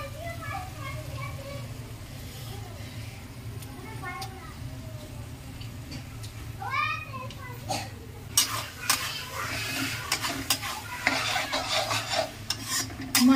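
Chicken with chopped tomato and masala stirred in a pan over low to medium heat, with scraping and clinking of a spoon against the pan under a low sizzle, while voices and children sound in the background.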